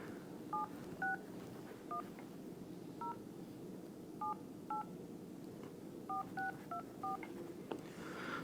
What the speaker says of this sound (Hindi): ये नंबर डायल कर रहे हैं हम लोग